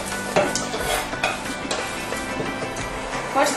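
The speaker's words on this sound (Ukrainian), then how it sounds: "наливаємо трохи олії. Не потрібно олії багато, лише щоб покрило дно сковорідки. І присипаємо цибулю і гриби." Onion and mushrooms fry in a thin layer of oil in a pan. The sizzle is steady and close, with stirring scrapes and small clinks throughout.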